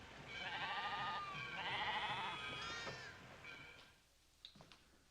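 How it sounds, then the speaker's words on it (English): Sheep bleat in a few close, wavering cries that run together for about three seconds, followed by quieter scattered rustles as the sound dies away. "let's go watch them slaughter the sheep"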